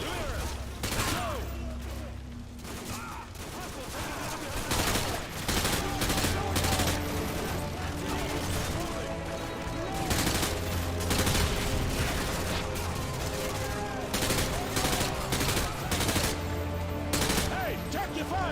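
Rapid machine gun fire and scattered gunshots in Call of Duty: Modern Warfare 2 crackle in dense bursts, some near and some distant, over background game sounds and music, with occasional voices mixed in.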